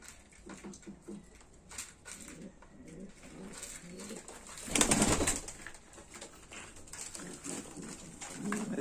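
Pigeons coo softly in repeated low throaty calls, fairly faint and close, with a brief louder rustle or flutter midway through.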